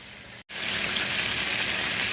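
Loud, steady sizzling of bone-in chicken shallow-frying in a hot pan, briefly cutting out before resuming as a constant crackling hiss.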